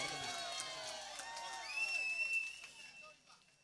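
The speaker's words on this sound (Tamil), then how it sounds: "இந்த மைசெட்டுக்கு ஒரு கைதட்டு கொடுக்கலாம்." An outdoor audience in Ramanathapuram district cheering and clapping for a sound system at a folk performance, crowd noise swelling then fading, mixed with an amplified voice speaking.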